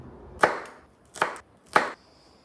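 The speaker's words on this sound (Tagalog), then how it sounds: "Hiwain na natin." Three separate knife chops on a cutting board, with short pauses between them, come from ingredients being cut for pork sinigang in a home kitchen. Each stroke is a crisp, close thud.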